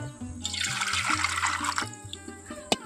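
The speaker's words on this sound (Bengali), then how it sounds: "গরম জলটা একটা পাত্রে আমি ঢেলে নিচ্ছি" Hot water is poured into a bowl while making lemon pickle, giving a close, steady splashing gush that lasts about a second and a half. A few faint drips and clinks follow.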